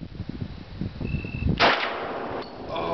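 Deafening .460 Rowland pistol shot from a Springfield XD45, a single sharp blast that rings out after low handling noise and clatter, followed by a fading echo and a second metallic ping.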